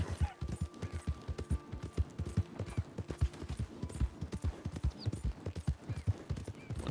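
Horse hooves clip-clop at a steady riding pace in Red Dead Redemption 2, a continuous close rhythmic beat of repeated strikes with no talking over it.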